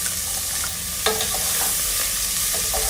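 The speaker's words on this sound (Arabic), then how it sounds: "زيت، نشوح البصل الأول" Onions frying in oil for Alexandrian yellow-lentil koshari, a steady close sizzle throughout with a brief stir or clink near the middle.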